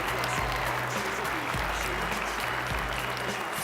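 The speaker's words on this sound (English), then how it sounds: "let's give all of these teams a round of applause in appreciation of their great effort this weekend" An audience at a 2019 volleyball championship final applauds the teams in a steady, dense wash of clapping from start to finish, with a few low thumps beneath it.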